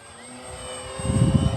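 An FMS Ranger 1800mm RC model plane flies overhead, its electric motor a steady whining drone that swells as it nears, with low wind buffeting growing louder toward the end.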